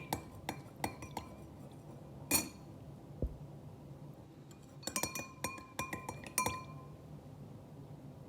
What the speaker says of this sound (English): I'm gonna just keep mixing, see if we can get all of those dissolved